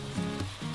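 Sauce hits a hot wok holding oil, pickled vegetables and garlic, giving a brief, steady sizzle close up with no talk.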